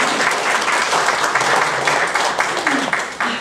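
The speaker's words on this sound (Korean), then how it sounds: "감사의 박수를 드립니다." Applause of thanks from an audience at a monthly Mass and lecture gathering of a Catholic diocese disability association, a steady, dense patter of many hands clapping at close range throughout, with no talk over it.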